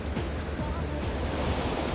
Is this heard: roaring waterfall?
yes